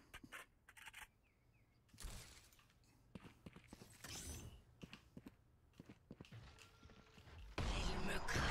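A weapon reloads in the video game Valorant, giving quick metallic clicks and mechanical clacks amid other faint game effects, ending in a louder burst of noise.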